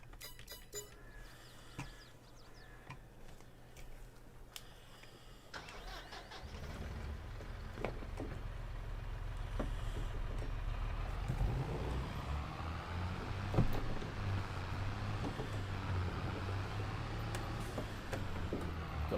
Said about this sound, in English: Got some nice sounding tractors now, as you can hear.